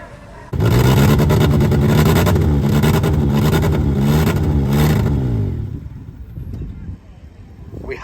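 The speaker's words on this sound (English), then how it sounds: "the keys in the ignition, and if we listen, so the engine turns" The engine of a car cut in half cranks and then catches, roaring loudly as it revs close up before dropping back to a quieter idle, with a voice talking over it.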